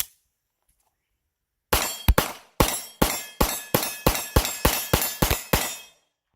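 A Sig Sauer P365XL pistol fires a full magazine: about a dozen sharp, loud reports in a fairly even rapid rhythm, each followed by a short ringing decay, after a silent pause at the start.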